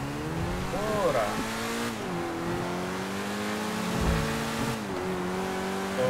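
A car in GTA 5 driving into the Mobile Operations Center, its engine droning and rising and falling in pitch as it revs, with a voice talking over it.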